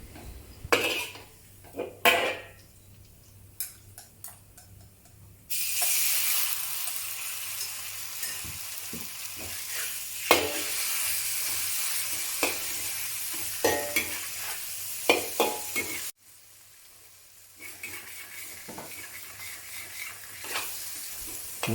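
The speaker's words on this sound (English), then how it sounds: "mix with the garlic and continue stir frying until it turns golden slightly." Chicken and garlic stir-frying in a hot wok: a loud, steady sizzle of oil with repeated scraping and clinking of a spatula against the pan, close up, briefly quieter near the end before the frying swells again.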